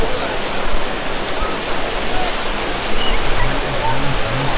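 Sea waves roll onto the beach at Cox's Bazar as a loud, constant wash of surf that fills the air, with faint voices of people on the shore mixed underneath.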